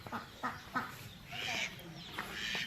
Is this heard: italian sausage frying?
no